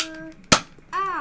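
A single sharp pop from a Nerf toy gun as the trigger is pulled and a dart fires, loud and close, set between stretches of voices talking.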